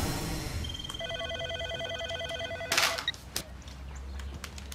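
A telephone gives a short electronic ring of stacked, stepped tones, followed by a sharp click and quieter handling sounds, heard fairly faint.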